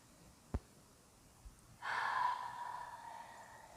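Breathing during a post-workout yoga hamstring stretch: a sharp nasal sniff, a soft catch, then a long audible exhale that fades gradually, close and quiet, with no talking.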